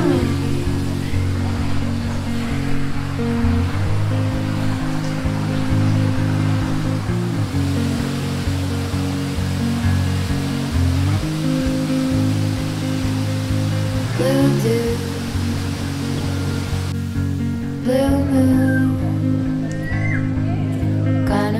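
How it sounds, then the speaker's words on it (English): A waterfall inside a large walk-through aviary at Jurong Bird Park, a steady loud rush of falling water with scattered bird calls and faint sounds of people. "The waterfall aviary is by far the largest of the ones that we've been to."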